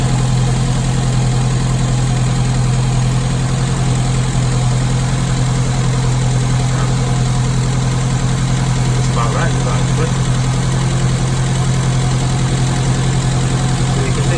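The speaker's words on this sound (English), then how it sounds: "loosening off the idle adjustment just to bring that idle down a little bit" Classic Mini engine, under restoration, idling steadily after its idle adjustment has been loosened to lower the idle speed, a constant loud close rumble with a low hum throughout.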